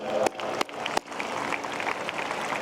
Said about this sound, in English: Let us give a big clap to all the Holy Cross brothers.